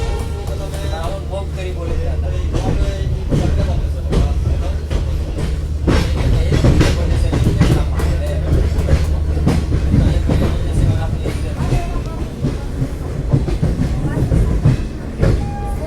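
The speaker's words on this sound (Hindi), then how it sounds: "फाइनली अपना अराइवल हो रहा है नई दिल्ली रेलवे स्टेशन पे और बिल्कुल बिफोर टाइम ट्रेन" A train pulls into New Delhi railway station with a steady rumble and rhythmic clickety-clack of wheels over rail joints, loud and continuous throughout.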